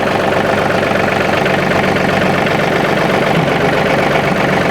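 John Deere 2032R compact tractor engine idling steadily, a loud, close, continuous diesel rumble with a rhythmic knock and no talking.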